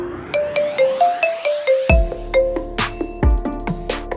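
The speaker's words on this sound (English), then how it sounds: "Check out these marimba ringtones of the most popular tracks right now." Marimba ringtone of a popular song plays a bright, clear melody of struck mallet notes, loud and close, with a deeper bass beat joining partway through.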